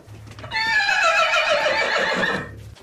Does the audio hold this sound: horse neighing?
yes